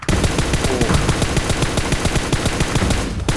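Rapid automatic gunfire in PUBG Mobile rattles out loud and close as one sustained burst of evenly spaced shots, stopping briefly just before the end.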